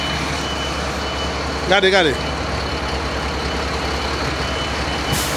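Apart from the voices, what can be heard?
garbage truck reversing with beeps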